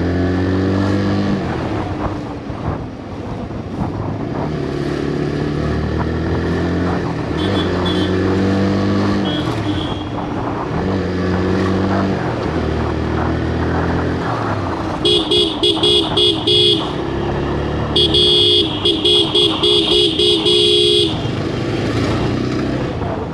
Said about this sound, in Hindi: तो चलिए थोड़ा सा हम पुल करते हैं बाइक को, देखते हैं प्रॉब्लम जो है वो अभी भी है या गया